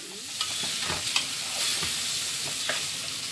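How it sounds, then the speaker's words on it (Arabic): Rice is stirred into dark browned fried onions in a pot, a close soft sizzle under repeated scraping and clinking strokes of a spoon against the pot. "نحط الرز هنا ونقلب"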